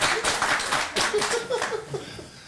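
Several sharp hand claps ring out during a lively panel discussion on the Anglophone problem, punctuating voices that keep talking throughout.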